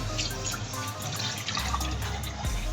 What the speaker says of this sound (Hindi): हमारे पास दूध का मग है, हम इसके अंदर डालेंगे